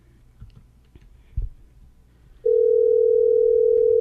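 A telephone tone on an outgoing call cuts in after a few faint clicks and thumps, then holds as a loud, steady, continuous pitch to the end, with no voices.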